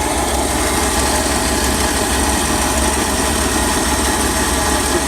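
A Ford W150 truck engine idles steadily up close, a loud, constant rumble with a buzzing mechanical drone and no change in speed.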